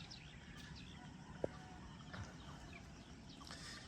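A rooster crows faintly in the distance across open rice paddies in the Philippine countryside, with birds calling and a soft outdoor ambience all around.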